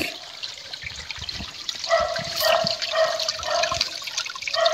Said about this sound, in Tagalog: Napakaganda ng sapa, fresh,